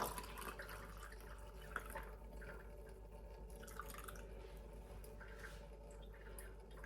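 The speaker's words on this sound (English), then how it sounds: "So add some hot water again." Hot water trickles and drips into a cup over minced garlic for a detox drink, a faint, quiet splashing with a few small plops, no talking.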